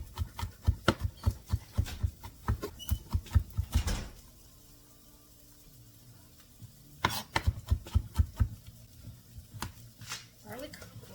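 A knife chopping garlic on a cutting board, a fast run of crisp close taps for about four seconds, a quiet pause, then another burst of rapid chopping.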